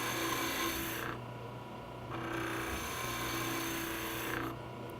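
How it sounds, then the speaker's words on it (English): A skew chisel takes light shaping cuts on a wood Christmas ornament spinning on a lathe, making a soft rasping scrape in three separate passes with short pauses between them. "Now I'll use my skew chisel to shape this half of the bulb from my center line down towards the brass, just making light cuts."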